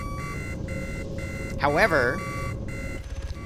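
Warning beeps from a damaged helicopter in a military video game, a repeating electronic tone pulsing at a steady rhythm, joined midway by a warbling alarm and heard under someone talking.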